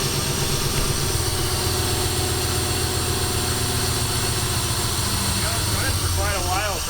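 A Toyota 1UZ V8 in a pickup truck, running on an aftermarket Spitronics ECU and harness, idles steadily with a deep, loud, continuous engine drone, while someone speaks briefly near the end.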